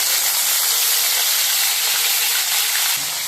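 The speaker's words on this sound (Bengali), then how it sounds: "এবার উচ্ছেগুলো ভেজে নেব।" Bitter gourd pieces frying in hot oil for a Bengali-style shukto, giving a steady, loud, close sizzle and hiss that stays even throughout, with a slight drop near the end.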